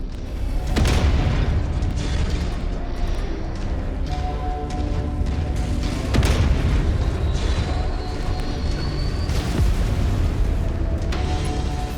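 A target blows up in MechWarrior 5 battle, a deep rumbling boom amid continuous mech combat noise, with further heavy impacts and thuds spread through the scene.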